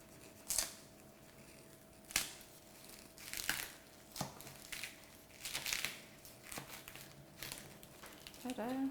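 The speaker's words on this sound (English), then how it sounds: "make sure you have a sharp knife, and you're going to cut it lengthwise." A sharp knife slices a whole pineapple lengthwise, giving a series of crunchy, fibrous cuts and crackles at close range, spaced irregularly, with quiet handling noise between strokes.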